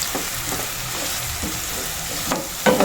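Chopped onions added to browned garlic in a frying pan, sizzling steadily while being stirred, with a few scraping clinks of the utensil near the end.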